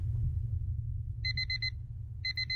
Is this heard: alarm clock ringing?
yes